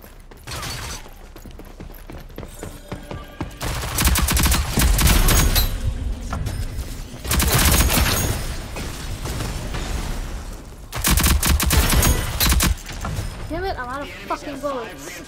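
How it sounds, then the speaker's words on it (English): Assault rifle fire in the Rogue Company shooter game comes in several loud bursts of rapid shots, with quieter mechanical game sounds between them and a voice speaking over parts. "I'm grabbing Anvil's assault rifle."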